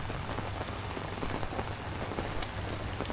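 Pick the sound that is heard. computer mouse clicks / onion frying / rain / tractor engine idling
rain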